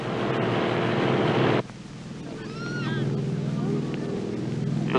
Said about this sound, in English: The sound of the engine brings everybody, even the pigs, scampering to the drop zone.